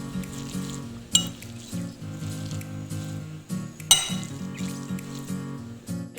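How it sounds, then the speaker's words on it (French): Green papaya salad with sunflower oil being mixed in a bowl for Comorian kachumbari: light, irregular clinks and scrapes of a utensil against the bowl, with two sharper knocks standing out, over a steady low background hum. "Et vous mélangez le tout. Donc là, il faut bien mélanger pour que ça soit bien homogène."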